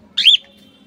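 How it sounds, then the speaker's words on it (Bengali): A black cockatiel lets out one short, loud whistled call, close up, over a faint low background hum. "Black cocktail."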